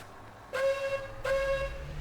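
Two drawn-out toots from a train horn in the Constracktion video game, each about three-quarters of a second long with a short gap between them, heard clearly over a quiet background.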